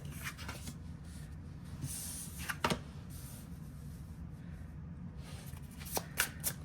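Tarot cards are handled and shuffled for a sample reading, soft rubbing and sliding at close range with a few sharper card snaps, quiet and alone.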